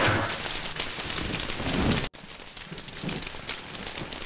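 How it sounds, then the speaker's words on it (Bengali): Steady, dense rain falls outdoors as a loud, close hiss with drops striking surfaces. It breaks off abruptly for an instant midway, then continues slightly softer. "আসলে বৃষ্টি হচ্ছে তো"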